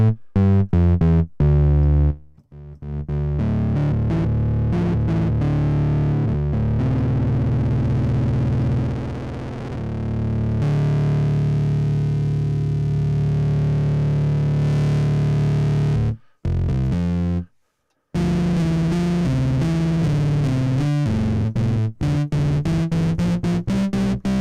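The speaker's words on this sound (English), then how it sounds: "Scream for distortion." Reason software's Scream distortion effect grinds out a loud, harsh, buzzing tone with shifting timbre, sustained with several abrupt cuts to silence and sudden restarts.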